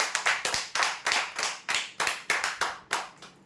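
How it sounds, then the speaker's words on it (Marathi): A crowd gives strong applause for the final lucky draw winner of a hotpot set. Around nine or ten loud, rhythmic bursts of clapping come in quick succession, with no talking. "विजेते हॉटपॉट सेटसाठी जोरदार टाळ्या द्या"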